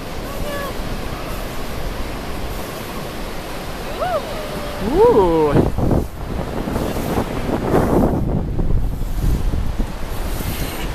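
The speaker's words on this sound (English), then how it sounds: "Oh, here comes the water." Ocean water washing up on the beach at Huntington Beach, a surging wash of surf under heavy wind buffeting on the microphone, with a brief exclamation and a few whistle-like voice sounds over it.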